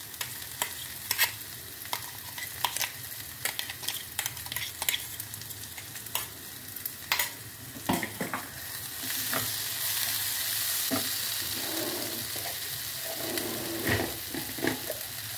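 Ground pea paste with chili and cumin powder frying in a hot pan, stirred with repeated sharp scraping knocks over a steady sizzle that swells louder in the second half.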